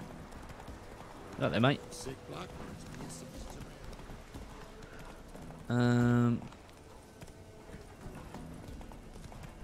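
A horse galloping in The Witcher 3 gives two short bursts of rapid clip-clop hoofbeats, a brief one and a louder, denser one a few seconds later, with someone talking briefly over game ambience.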